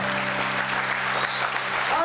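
A church congregation applauds loudly during a worship service, with dense, continuous clapping mixed with voices and sustained musical tones underneath.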